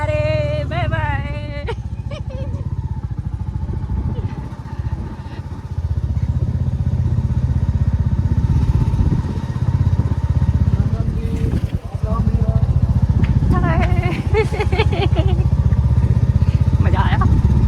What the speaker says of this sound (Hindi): पापा जी और मम्मू जी जा रहे हैं बुलेट पे।